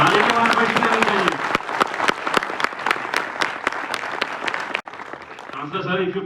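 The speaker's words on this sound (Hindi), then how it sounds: "Huge round of applause." An audience at a university event applauds, loud sustained clapping from a crowd with individual claps standing out, breaking off briefly before a voice speaks over the tail.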